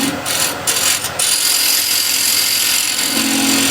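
Negative rake scraper cutting wood on a lathe, a steady loud whirring scrape with a few brief rough bursts early on, then a continuous even hiss of the tool shaving the spinning surface.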